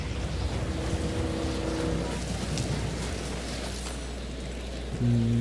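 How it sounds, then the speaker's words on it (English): Steady rain hisses without a break across the whole stretch, with a low rumble and faint droning tones underneath and no voices. "rain."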